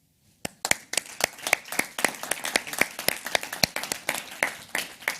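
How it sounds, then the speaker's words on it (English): Audience applause for finalists at an engineering business competition final, starting abruptly as a burst of sharp, uneven claps from a modest crowd, fairly close and steady throughout with no talk. "They all deserve a huge round of applause."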